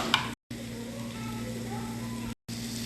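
Butter sizzles in a frying pan in a home kitchen, a steady hiss with faint crackle running through the clip, broken by two brief silent gaps.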